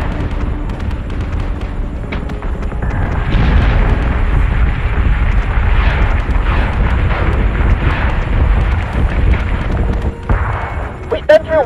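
Ship weapons fire in Battlestar Galactica Deadlock as a dense, loud rumble of explosions and booming barrages, sustained and heavy, with a sharper crack near the end.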